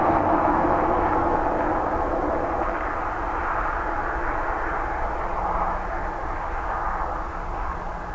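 A fixed-wing airliner arriving at Dublin Airport gives a steady, loud engine roar with a broad whine that holds level throughout and fades slightly near the end, with no talking.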